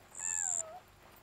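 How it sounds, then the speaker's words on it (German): A cat meows once in the video game Yonder: The Cloud Catcher Chronicles, a single clear, drawn-out call with a falling tone that fades over about half a second against quiet background. "Miau! Miezekatze!"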